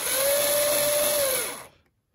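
A drill enlarges a mounting hole for a DC90 motor on a model aircraft, whining steadily at high speed for about a second and a half before spinning down to silence, close and loud.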